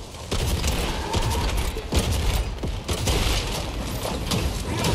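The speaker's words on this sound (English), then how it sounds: "I got the bullet, the big cannon. Eat bombs!" Cannon firing bombs in a Teenage Mutant Ninja Turtles video game, heard as a dense, loud barrage of booming blasts and mechanical clatter running continuously with several sharp impacts.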